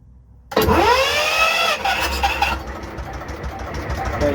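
A 52-foot tug-style narrowboat's engine, started by push button, cranks and catches with a rising whine, then settles into a loud, steady rumbling idle close by.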